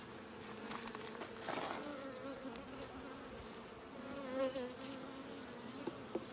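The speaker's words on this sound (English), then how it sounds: "Most of the bees in the hive are worker bees." Honeybees buzz inside an open hive during an inspection, making a steady, faint droning hum with a few louder swells as individual bees pass close. No voices are heard.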